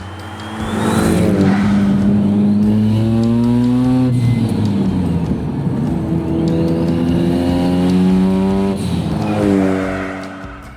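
A Mazda RX-7 rotary engine revs and shifts through gears on a highway, pitch rising and falling repeatedly as it accelerates, loud and close with a faint tire whine.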